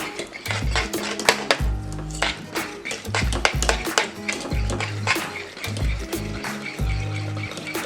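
Spoon or whisk clattering and scraping against a pot while cornmeal porridge is stirred, a busy run of close metallic knocks and clinks with no talk.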